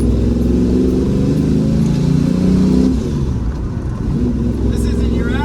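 Red 1971 Dodge Challenger V8 muscle car driving, a loud low engine rumble that swells and eases, with a voice talking over it.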